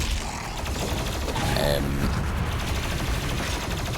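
In Doom Eternal's The Ancient Gods Part 1 expansion, a weapon fires nonstop at a turret, making a steady, dense stream of rapid mechanical shots with clanking game effects and a brief brighter burst midway.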